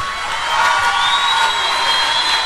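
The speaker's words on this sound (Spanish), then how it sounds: "Bueno, un aplauso para Falcao." A studio audience applauds and cheers for the footballer Falcao on a television show, a steady broad wash of clapping and crowd noise that holds at full strength throughout, with no voices standing out above it.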